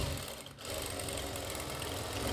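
A sewing machine stitches a kurti in a steady, close, loud mechanical whir with rapid needle chatter, pausing very briefly near the start and then running on continuously with no speech.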